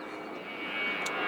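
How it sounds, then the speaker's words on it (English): An aeroplane passes overhead during outdoor garden work, a broad steady engine roar that swells slightly louder toward the end, heard alone without talk. "Sorry about the aeroplane noise."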